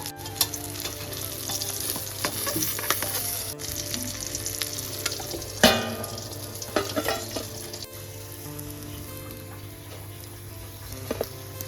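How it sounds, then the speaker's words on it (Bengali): Tengra fish frying in hot oil in a pan, producing a continuous crackling sizzle with scattered sharp spatters and a few utensil clicks across the stretch. "সেম প্রসেসে বাকি মাছগুলো ভেজে নেবো"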